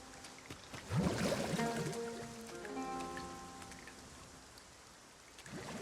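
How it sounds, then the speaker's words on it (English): Rain falls in the fantasy video game Dragon's Dogma 2 as a soft, steady patter with faint splashing, quiet and continuous, with a few brighter tonal game sounds layered over the middle. "And it's just, we're wet. Because it's raining."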